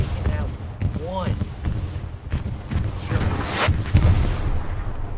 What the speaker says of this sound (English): Some more explosions on the point.